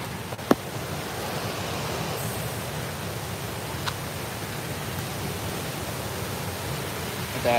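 The Mala Arbhi waterfall gives off a steady, dense roar of rushing water, close and unbroken throughout, with a faint click near the start.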